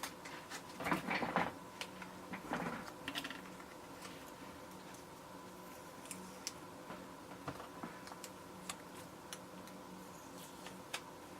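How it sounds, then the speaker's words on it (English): A Big Shot die-cutting machine feeds a card through while crafting, giving a burst of ratcheting mechanical clicks and grinding near the start, then scattered faint ticks and small taps against a quiet room. "I'm just going to run it to my big shot machine, which is over here and off camera"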